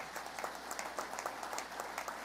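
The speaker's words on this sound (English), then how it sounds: "Let's give him a round of applause." Brief, fairly faint applause from a crowd at a New York State Police Academy graduation, honoring the director of training, a steady patter of clapping with no talking.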